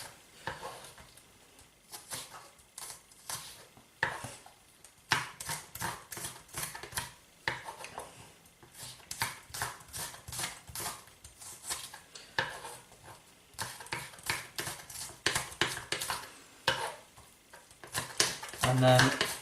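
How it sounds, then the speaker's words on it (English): A knife slices food very thinly on a board, with quick rhythmic taps in bursts separated by short pauses, while a person talks throughout. "So what we're going to do is just going to slice it very thinly,"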